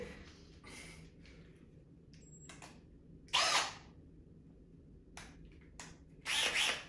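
A small, light cordless drill from an electrician's toolbag whirs in two short, loud bursts near the microphone, separated by quiet handling clicks, with no talk over it.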